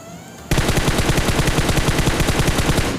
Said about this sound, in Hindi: तो भाई मैं घास में अंधा फायर देता हूँ।